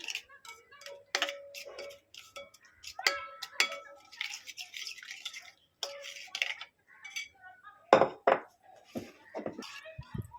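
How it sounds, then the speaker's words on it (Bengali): A spoon mixes ground spices and melon seeds in a bowl for a cauliflower roast, producing irregular close clinks, taps and scrapes of metal on the bowl, with brief gaps between strokes. "ভালো করে সব আবারও মিশিয়ে নেব"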